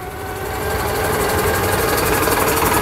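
An electric bike with two 350W geared motors climbs a steep hill under power, giving a loud, steady whirring drone with a rough mechanical buzz that builds and holds throughout, no voices.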